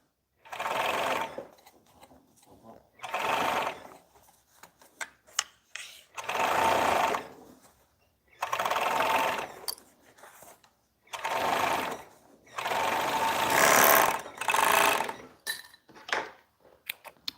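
A serger overlocks the edge of fabric, running in six or seven close, loud bursts of rapid mechanical whirring with brief quiet gaps and light handling clicks between them.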